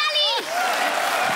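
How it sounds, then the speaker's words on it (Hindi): Studio audience applause on a comedy talk show, a steady wash of clapping that swells in after a loud voice and continues under it. "ठोको ताली ठोको ताली"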